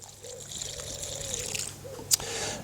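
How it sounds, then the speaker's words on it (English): Water trickling and dribbling from a watering can onto newly planted vegetable seedlings in a no-dig garden bed, a steady soft flow close by with a brief splash near the end. "So all I'm going to do is give this a bit of water to settle them in."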